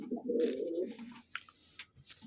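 Racing pigeons coo close by in a low, rolling burst at the start, followed by quieter rustling and faint chirps as the birds settle.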